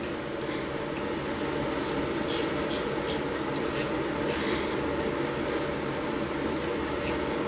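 A Merkur Futur safety razor scrapes across skin in quick, close, repeated strokes, a soft rasping scratch that pulses in short bursts over a steady background hiss.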